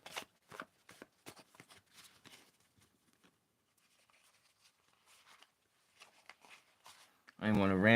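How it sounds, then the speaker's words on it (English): Cards are shuffled by hand in short riffling bursts, quiet and close, with pauses between them, ending in a sudden loud burst of noise. "I want to randomize these numbers pretty good."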